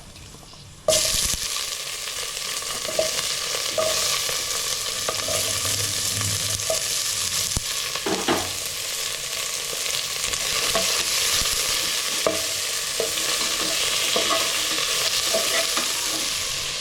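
Onions fry in a pan of hot oil with whole spices like cinnamon, a loud, continuous sizzle that starts abruptly and carries on with occasional stirring clicks.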